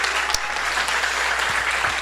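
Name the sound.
audience applause for each other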